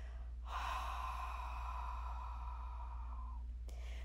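One forceful, steady exhale through pursed lips during a core bracing exercise, like breath fogging a mirror, lasting about three seconds and close up, over a low steady hum, with no talk.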